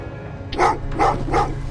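Several dogs bark in three loud, evenly spaced bursts close by, each bark sharp and short over a low steady background hum, with no voices.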